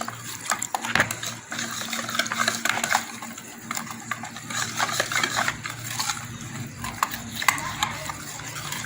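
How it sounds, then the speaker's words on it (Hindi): Water poured into kadhi batter and stirred by hand, giving steady sloshing and scraping with clinks against the pot, close and moderately loud throughout. "इसमें हम 2 गिलास पानी ऐड करेंगे। इसको भी मैं अच्छी तरह से मिक्स कर लूँगी।"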